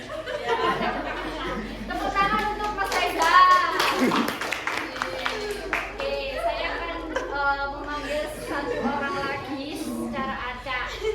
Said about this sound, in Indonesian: Tepuk tangan untuk Mas Reza.